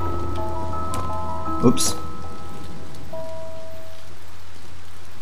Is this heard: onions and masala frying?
no